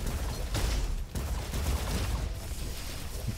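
In the Roboquest video game, the Blunderbuzz shotgun fires in dense, rapid blasts that run together into a loud, rumbling barrage, with a brief gap near the one-second mark and no talking.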